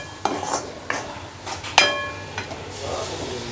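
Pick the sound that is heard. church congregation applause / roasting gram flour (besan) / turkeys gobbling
roasting gram flour (besan)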